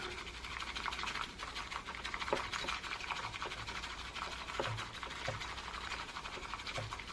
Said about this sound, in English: We'll whisk it.